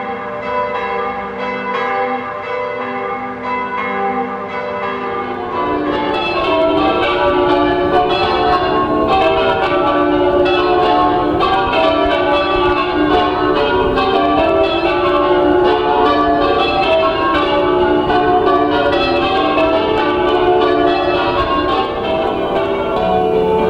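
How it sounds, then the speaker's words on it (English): Church bells of St Mary's ringing in a continuous dense peal, many overlapping tones sounding loud and close without pause, swelling slightly after the first few seconds. "Listen now to the music of the bells and compare the old with the new."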